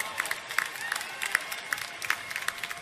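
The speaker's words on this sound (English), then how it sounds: "Round of applause, please, for both teams and for both charities." An arena crowd at the NBA All-Star Game applauds, with scattered claps and cheers forming a bright, steady wash of crowd noise.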